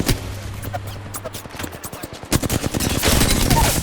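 Rapid gunfire in Apex Legends, dense bursts of sharp automatic shots that speed up and grow louder toward the end, with voices faintly underneath.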